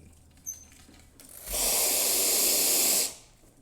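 An ECM Barista Rota espresso machine pushes water through its group head, a loud steady hissing rush lasting about a second and a half, preceded by a small click and quiet room noise.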